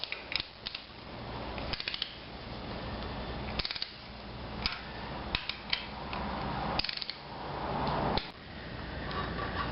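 Gear cover bolts are torqued down on a 5.9 Cummins diesel engine during a rebuild, heard as close, loud bursts of ratchet clicking in repeated runs with brief pauses between strokes.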